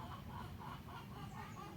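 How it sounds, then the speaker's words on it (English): Chickens clucking in a steady low murmur behind a constant background hum, faint and somewhat distant, with no clear individual calls standing out. "can you hear the chickens?"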